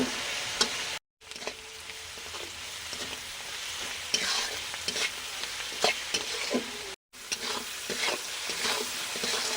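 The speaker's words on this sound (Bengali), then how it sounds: "আমি এদিকে পেঁয়াজটা নেড়ে দিচ্ছি" Onions sizzle in a pan while being stirred, with repeated scraping and clinking strokes over a continuous hiss of frying and two brief silent gaps.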